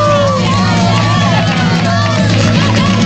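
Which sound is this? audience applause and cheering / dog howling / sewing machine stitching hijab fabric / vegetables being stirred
audience applause and cheering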